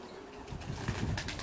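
Racing pigeons in a loft give brief, muffled cooing and soft flapping of wings, faint and close against a steady background hum.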